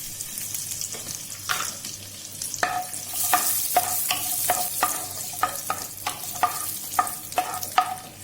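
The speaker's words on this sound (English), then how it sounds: "So I have around 10 to 15 cashews. We will roast this." Cashews, ten to fifteen of them, roasting in ghee in a pan for beetroot halwa, giving a steady soft sizzle punctuated by repeated light scraping and stirring clicks, close and alone with no talking.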